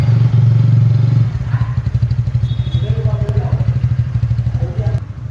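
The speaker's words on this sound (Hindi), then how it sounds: "तो ये था स्कूटी का एग्जॉस्ट साउंड जो आप लोगों ने सुना।" A red 2023 TVS Ntorq 125 Race XP scooter (E20) idles with a steady low exhaust burble, then settles into a rhythmic pulsing putter with light clatter, close and loud throughout.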